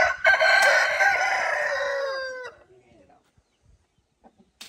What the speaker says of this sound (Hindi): बड़े मुर्गे जो है इन्होंने ज्यादा शोर डाला हुआ है भाई